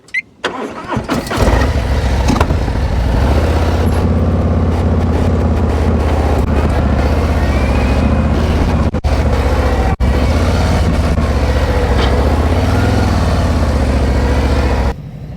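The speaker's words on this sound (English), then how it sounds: "Let me get my motorcycle out of the way." Motorcycle engine cranks and fires up in an open practice area, then settles into a steady, loud idle running close by for the rest of the stretch, with no talking over it.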